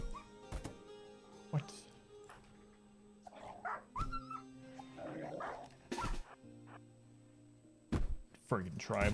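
Dog in the RimWorld video game yelping and whimpering while being punched, short game sound effects with thuds and yips amid a busy mix of other effects and music.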